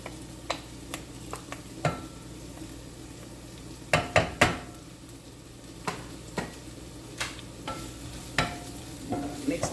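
Red and green peppers fry in a pan under a soft, steady sizzle, while a utensil stirs and knocks against the metal in irregular taps and scrapes.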